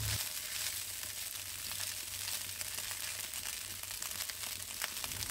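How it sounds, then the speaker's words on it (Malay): Egg fried rice frying hard in a pan over high heat gives a close, steady sizzle with crackly spatters and soft scraping stirs throughout, and no voices. "Saya kuatkan sedikit apinya supaya nasi gorengnya akan lebih terlerai-lerai dan berderai-derai"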